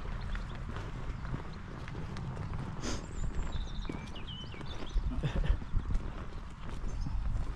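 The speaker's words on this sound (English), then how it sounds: "Shetland ponies." Shetland ponies walking outdoors, hooves giving a soft, uneven clip-clop over a constant rumbling background, with birdsong chirping faintly overhead.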